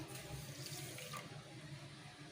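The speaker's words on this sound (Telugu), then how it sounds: "ఎంత పప్పు అయితే వేస్తారో అంత పంచదార దాంట్లోకి ఒక గ్లాస్ వాటర్" Water from a glass is poured over sugar and soaked moong dal in a pot, starting a syrup for a sweet. The faint, steady splashing pour thins out after about a second.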